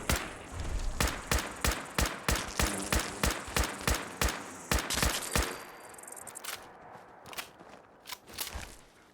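Rapid, evenly spaced gunshots fire at a bloodbug in Fallout 4, a loud steady string of a dozen or so cracks that slows into a few scattered shots, with no talking.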